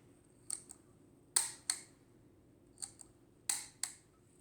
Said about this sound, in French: Donc l'appareil déclenche bien